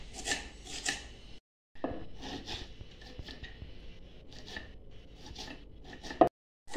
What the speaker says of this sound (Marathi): आपल्याला कांदा आहे ना असं एकदम बारीक असा कापायचा